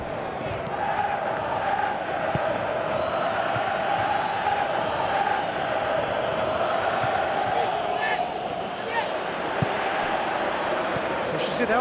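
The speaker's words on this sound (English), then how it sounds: "Crowd appreciates good football all round there." Stadium crowd noise from PES 2017 football video game during a Persib vs Persija match, a steady, loud roar of massed voices holding level throughout with occasional whoops and chants rising from the stands.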